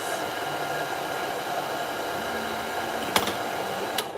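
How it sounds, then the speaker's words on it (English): A steady blowing hum of a pet dryer box drying a Ragdoll cat fills the clip, with a couple of brief clicks near the end. "let's put her in the dryer box."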